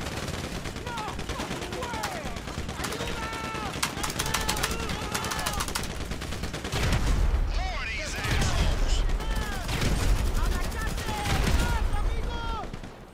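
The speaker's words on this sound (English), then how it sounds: "Alright, they're all shooting at me," Enemies shooting in the GTA game during a snowy Christmas Lamar mission with lowriders: dense, continuous bursts of rapid gunfire and machine-gun volleys, loud and close, with a voice talking over it.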